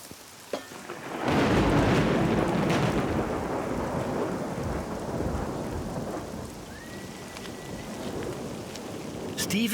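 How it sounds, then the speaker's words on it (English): Heavy rain pours down in a steady, dense roar during a thunderstorm at a French chateau in Périgord, with thunder rumbling under the downpour; loud and close throughout. "Steve and Didier have little choice but to take cover and ride out the downpour."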